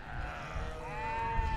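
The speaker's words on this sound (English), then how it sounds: "So that's a black-faced sheep." A sheep bleats in the livestock area of the Royal Highland Show, a drawn-out wavering call rising near the end, over crowd and pen background noise.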